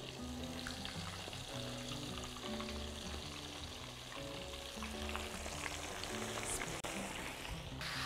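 Tilapia dusted in flour frying in plenty of oil, a steady, dense crackling sizzle that holds throughout, with faint tonal background hum beneath.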